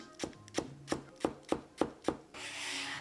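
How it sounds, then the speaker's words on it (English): Knife chopping an onion into squares on a cutting board, six to seven evenly spaced crisp chops, close and clear, followed by a short rustling scrape at the end. "You cut an onion, you want to kind of follow the ridges, follow these lines when you cut."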